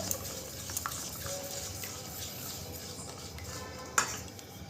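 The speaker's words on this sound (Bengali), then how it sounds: "এভাবে ঘুরিয়ে ঘুরিয়ে যাতে একটু বাবলসগুলো না থাকে সেভাবে আমি মিশিয়ে নেব" Patisapta pitha batter is stirred round and round in a bowl, giving faint, steady swirling scrapes with a few light clinks of the utensil against the bowl, one sharper knock near the end.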